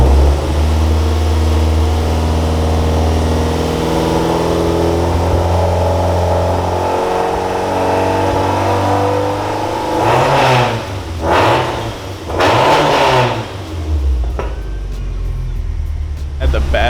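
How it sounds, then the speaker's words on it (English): A modified Subaru car engine idles with a deep, steady rumble close by, then revs up and down several times in short swells before settling back, with a person talking nearby at points. "I can feel it rumbling in my chest standing next to it over here at idle."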